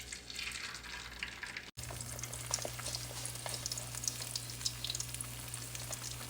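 Eggs frying on a hot stove set to 8, a steady close sizzle and crackle holding on without letup after a brief break near the start, with no voices.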